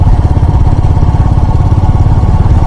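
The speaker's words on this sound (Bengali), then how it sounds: "আমি এই রাস্তাতে বাইক চালাচ্ছি" A motorcycle's engine throbs loud and close as the bike rides along a road on a solo trip from Kolkata to Siliguri, a steady pulsing mid-range rumble with no pauses.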